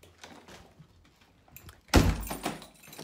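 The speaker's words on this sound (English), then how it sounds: "I'm opening the door." A house front door opens with a loud thunk and rattle after quiet moments, followed by brief shuffling as someone arrives home, close and distinct.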